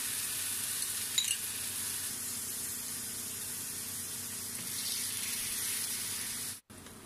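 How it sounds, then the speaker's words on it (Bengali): Spinach dropped into a hot pan of fried onions sizzles with a steady, even crackle that holds throughout, with a small burst near the start and a brief dropout near the end. "আমি এবার পালং শাকটা ঢেলে দিলাম।"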